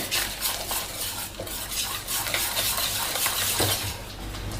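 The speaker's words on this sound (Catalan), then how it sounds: "I barregem." Batter for a lime tart is whisked or stirred in a bowl, a continuous close scraping and swishing with light utensil clinks against the sides, steady and fairly loud with no speech.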